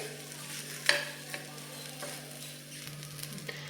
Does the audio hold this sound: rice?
yes